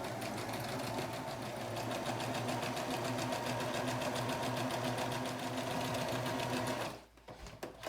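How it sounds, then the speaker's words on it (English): Sewing machine stitching along the curved edge of a cloth face mask with a 3/8 seam allowance, a steady, fast mechanical whir that runs for about seven seconds and then stops abruptly. "sewing along this curved edge with this 3/8 seam allowance"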